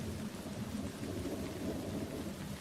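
Steady rain pours down with a continuous low rumble of thunder rolling beneath it, a dense and even stormy wash throughout.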